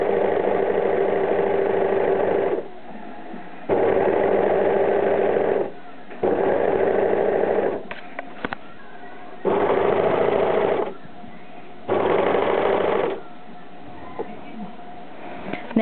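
An overlocker sewing machine stitches fabric, slowly following the curves of a cut pattern piece for contour boosters. It runs in five steady whirring bursts separated by short pauses, close and fairly loud.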